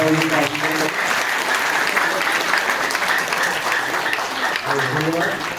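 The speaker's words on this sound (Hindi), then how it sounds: "एक बार पूरा ताली बजाएं" An audience at a seminar applauds in a hall, a loud continuous wash of clapping, with a voice speaking over it at the start and again near the end.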